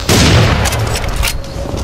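Double-barrel shotgun fired in the first-person shooter Serious Sam: Siberian Mayhem, a loud, booming blast up front followed by a second sharp report about a second later amid game noise.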